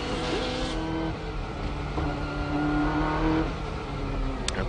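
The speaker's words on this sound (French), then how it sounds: "Nous sommes à bord de la Nissan Skyline, la voici, la numéro 22" Nissan Skyline GTR race car, number 22, at the 1995 24 Hours of Le Mans, its engine droning loud and close from onboard with shifting pitch as gears change, steady and without talk.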